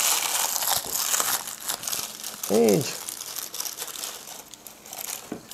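Wrapped pieces of crispy toasted bread seasoned with oil and salt being crushed by hand, giving repeated crinkling and crunching of the wrapping and bread, with a person speaking briefly over it in a kitchen.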